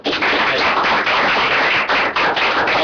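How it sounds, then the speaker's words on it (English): A round of audience applause for a speaker at a business talk on funding and financing the enterprise, dense steady clapping filling the room from start to finish. "we'll just give one more round of applause"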